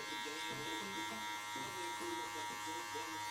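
Electric hair clippers with the lever fully open, bare blade brushing down hair during a mid skin fade at a barbershop, give a steady close buzz throughout with a faint voice underneath.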